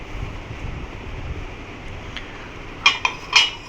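Ceramic plates and cups clink as they are handled: a few quick, bright taps close together near the end, over a steady low background hiss.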